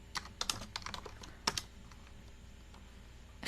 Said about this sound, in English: can you hear the keyboard though?